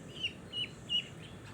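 A chicken on a small duck farm in Bangladesh gives three short, faint, high chirps spaced evenly over a quiet background.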